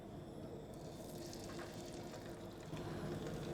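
Fish frying in a pan of olive oil and butter, a steady close sizzle and crackle that swells slightly near the end, with no voices.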